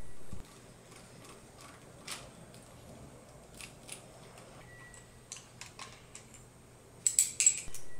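A hand ratchet loosens jacking bolts on a pump gearbox. Light, scattered metallic clicks run throughout, ending in a faster, louder burst of ratcheting.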